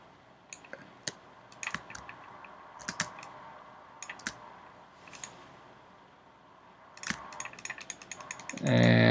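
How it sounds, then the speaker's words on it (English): Computer keyboard arrow keys are tapped while nudging a drawing in Illustrator: scattered sharp clicks, singly and in quick bursts, close and fairly quiet, ending in a louder rustle. "Just use my arrow keys just to move it a little bit."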